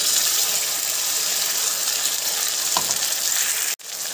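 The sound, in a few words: spice paste frying with potatoes and onions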